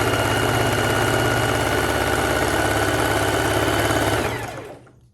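A domestic sewing machine running at speed stitching elastic onto knit fabric with a zigzag stitch, a loud continuous whirring motor hum close up that winds down and stops near the end.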